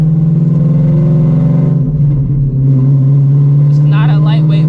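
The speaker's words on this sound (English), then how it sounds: "You just have to go ahead and give the car a little bit more gas for takeoff with this clutch" A car fitted with a new aftermarket clutch and a standard, non-lightweight flywheel pulls away on takeoff, its steady engine drone holding loud and close throughout while a voice talks over it.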